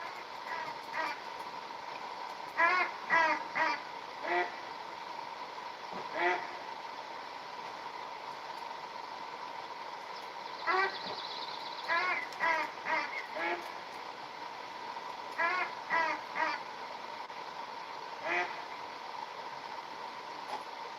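Ducks outdoors give repeated bursts of quacking, loud and close, in short clusters spaced a few seconds apart, with a steady background hum between calls.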